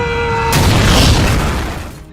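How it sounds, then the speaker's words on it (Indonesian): Bomb exploding in a room: a sudden loud, broad blast that cuts in over a steady electronic tone, then rumbles and fades over about a second and a half. "bom di ruangan tersebut meledak"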